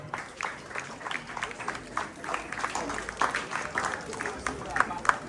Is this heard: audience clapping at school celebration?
yes